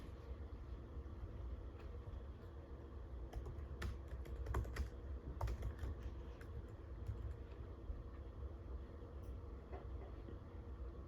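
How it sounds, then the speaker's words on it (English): Quiet keyboard typing during an after-class exam review session, a scattered run of soft key clicks under a steady low room rumble, with no one speaking. "That's someone started typing up here."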